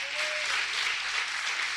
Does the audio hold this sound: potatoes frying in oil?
no